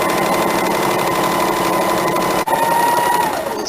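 Close, loud sewing machine stitching a kurti, a steady high whir running continuously with one brief break near the middle, then slowing and trailing off toward the end.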